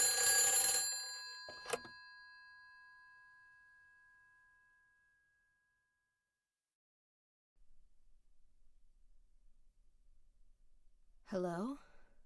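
A telephone rings in Silent Hill 3: a loud burst of ringing at the start with one short second ring, fading into near silence, then faint low rumble and a brief voice-like sound near the end.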